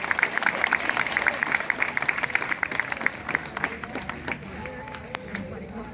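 A crowd at a farmers' rally with a farmer leader claps loudly in quick, dense bursts that gradually thin out and fade, while a voice carries over the applause.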